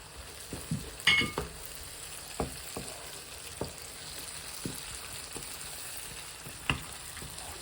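Fish roe and tomato fry in oil in a pan, giving a steady soft sizzle broken by scattered stirring knocks and scrapes, one louder clatter near the start, with no talking.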